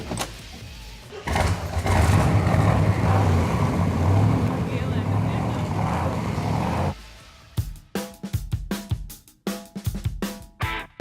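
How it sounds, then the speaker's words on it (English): A classic car engine rumbles steadily and loudly for several seconds, then cuts to choppy bursts of noise and a voice talking. "comparing classic cars to the cars of today is the engines sound way cooler."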